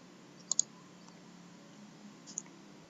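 A computer mouse clicking while saving in the Joomla web software: a quick double click followed by a single faint click a couple of seconds later, close and quiet against a soft room hiss.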